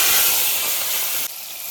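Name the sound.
onion frying in oil with cumin, dried chili, bay leaf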